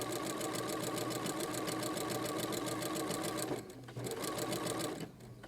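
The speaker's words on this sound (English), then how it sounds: "I'm just going to start sewing with my 3/8 of an inch seam allowance." A sewing machine stitches quilt binding at a 3/8-inch seam allowance, its needle hammering in a fast, even rhythm up close, pausing briefly twice before running on again.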